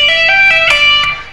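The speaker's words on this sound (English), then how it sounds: "And then we're going to pull off the same note" An electric guitar plays a legato pull-off lick in G pentatonic on the second string, a quick run of notes with clear pitch steps, loud and near, no talk.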